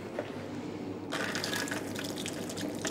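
Rice soaking water for lamb biryani is poured out in a kitchen, a steady splashing liquid stream starting abruptly partway through and running continuously, close and moderately loud, with no speech.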